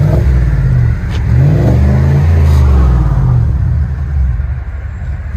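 A 2020 Chevy Silverado High Country with a 6.2L V8 and Magnaflow dual exhaust revs loudly up and down, a deep throaty rumble swelling and falling, close to the tailpipes.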